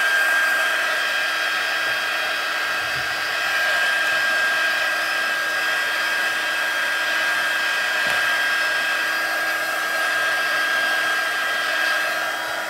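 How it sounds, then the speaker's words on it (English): A handheld heat tool blows air steadily to dry a craft piece, giving a constant loud whirring hiss that holds level throughout with no talking. "I'm gonna bring in my heat tool, and I want to make sure this is completely dry"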